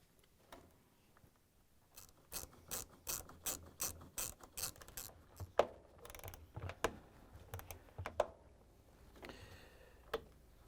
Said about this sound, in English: we can grab the ratchet with the Phillips screwdriver bit and tighten on the clamp